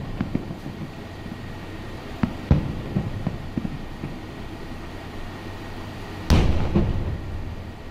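Eid fireworks exploding over Dubai at night, heard as distant scattered pops and thumps, with one louder bang near the end, over a steady outdoor background and no talking.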